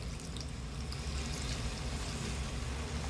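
Roughly a quarter tumbler of water pours into potato masala in a pan, giving a soft, steady splashing pour that runs throughout at low volume, with no voices.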